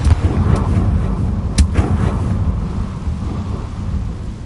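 Confringo blasting spells exploding in Hogwarts Legacy: a loud, rumbling low boom with a sharp crack in the middle that rolls on and fades slowly, sounding like thunder, with no talk.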